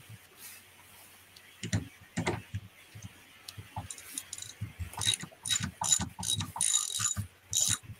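An 18 millimeter socket wrench ratcheting in a workshop, faint clicking and clattering in irregular bursts that grow busier toward the end, with light handling noise and no talk.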